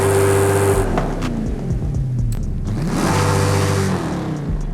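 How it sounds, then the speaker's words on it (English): Revving V8 engine of a 2022 Dodge Challenger SRT Super Stock in Forza Horizon 5 roars up and down through repeated rev sweeps, loud and close, with a deep burbling exhaust note and no talk. "let's go and just see if it has a different exhaust note"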